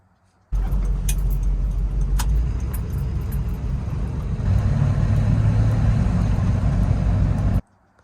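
A 1976 Chevrolet K5 Blazer cruising at night, its engine and road noise forming a steady, close low rumble that deepens and grows a little louder partway through, with no talk.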